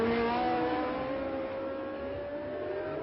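A Formula 1 race car at the 1972 French Grand Prix drones past at high revs, its engine note sliding slowly downward as it pulls away.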